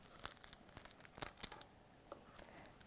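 Plastic packaging of turmeric being cut and torn open in a kitchen, giving a few quiet, sharp crinkling rips close by.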